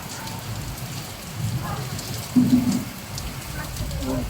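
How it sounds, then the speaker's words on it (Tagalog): Heavy rain pours down in a hail storm in Mysore, India, with a dense, constant hiss, swelling in gusts with a few louder splashes against a surface. "grabe yung hampas ng ulan"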